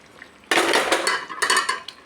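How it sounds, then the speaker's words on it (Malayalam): A metal lid comes off a pot of simmering fish curry with a sudden clatter, followed by a few close rattles and clinks of cookware, without any talking. "ഒരിക്കൽ കൂടി അടപ്പ് മാറ്റി നോക്കാം"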